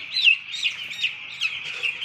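Small baby chicks on a poultry farm, about six days old, getting vaccinated, chirping in a steady stream of high, rapid peeping calls that rise and fall continuously, fairly close and with no talk over them.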